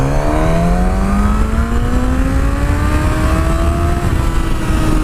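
A Suzuki GSX-S1000 motorcycle engine revs at about three-quarters throttle, a loud, close, continuous roar whose pitch climbs gradually over several seconds with no talking.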